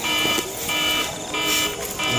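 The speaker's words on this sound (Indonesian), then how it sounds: "alarm saya bunyi" A phone alarm rings during night camping in a graveyard, a repeating electronic tone pulsing steadily over a couple of seconds, moderately loud and alone.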